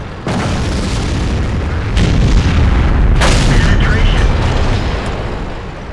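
A tank cannon fires in a tank combat video game, giving a heavy booming blast over a dense rumbling engine bed. A sharper crack comes midway, and the sound stays loud and close throughout.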